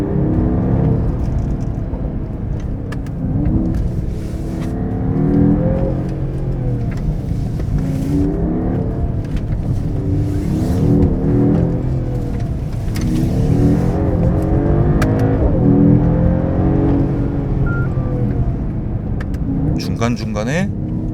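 Mercedes-AMG GT 43 4-door in sport mode, engine and exhaust droning steadily through a curvy drive with rising and falling revs, someone talking over it throughout.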